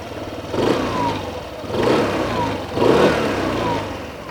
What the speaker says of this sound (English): It just sounds like a conventional scooter.